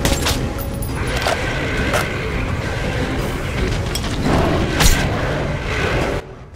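Grenade blast in the video game Metro Last Light Redux, a loud burst standing out near the end against dense, continuous rumbling game noise, with no talk.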